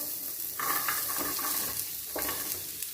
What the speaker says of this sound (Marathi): हे छानपैकी मी भाजून घेणार आहे सगळं एकदमच मी टाकणार आहे ह्याच्यात